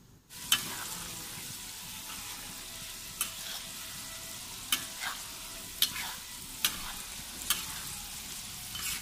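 Crickets deep-frying in hot oil, a steady soft sizzle with occasional sharp crackles and pops spaced every second or so, close and fairly quiet, with no talking.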